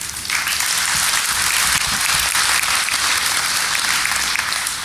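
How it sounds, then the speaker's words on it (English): A packed hacking conference audience applauds steadily, dense sustained clapping from a large crowd filling the room, with no talk over it. "you should all give yourself a round of applause"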